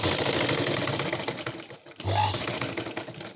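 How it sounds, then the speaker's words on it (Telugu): A sewing machine stitches a blouse dart up close, its steady rapid mechanical whir running continuously with a brief pause and restart partway through. "ఇప్పుడు స్టిచ్చింగ్ చేయడం చూపిస్తున్నానండి"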